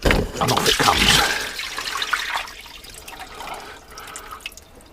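Salt water drains out of a boat's raw water pump hose, splashing and trickling into the bilge in a gushing burst that tapers off into softer dribbles and drips.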